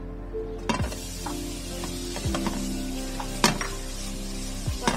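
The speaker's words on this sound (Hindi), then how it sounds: "अब पैन में डालेंगे बाकी बचा हुआ घी चॉप किया हुआ खजूर" Chopped dates frying in ghee in a pan, giving a steady sizzle with a few sharp clinks and scrapes of a spoon against the metal.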